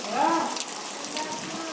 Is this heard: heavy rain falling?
yes